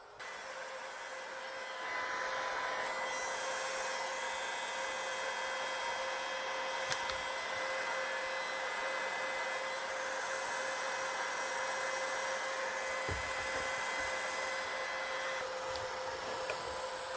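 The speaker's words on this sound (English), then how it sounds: "we're going to also use the heat gun to cure this" A heat gun blows steadily to cure thick vinyl repair compound, a continuous airy whir with a motor whine that starts softly and then holds loud and even for the rest of the stretch.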